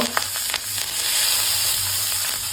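A kitchen tempering of mustard seeds, asafoetida, turmeric and curry leaves sizzles loudly in hot oil, a steady close crackle with a few sharp pops near the start and no talking.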